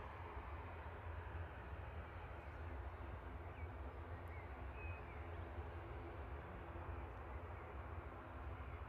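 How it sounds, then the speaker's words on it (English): A Loganair ATR 42 drones steadily in the distance at an airport, producing a faint, continuous low engine rumble that neither rises nor fades. "Loganair from Inverness in the background. ATR 42."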